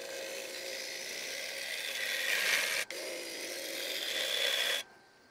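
A turning gouge trims a mango crotch wood dish on a lathe, giving a continuous rough scraping hiss with one brief break and then an abrupt stop near the end.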